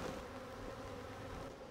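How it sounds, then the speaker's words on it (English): Honeybees buzz around a hive in a dense, continuous drone, soft and steady with no voices, as many insects hum together close by. "So I'm going to shake these bees off into the new hive."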